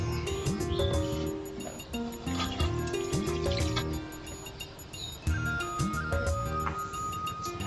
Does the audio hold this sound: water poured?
yes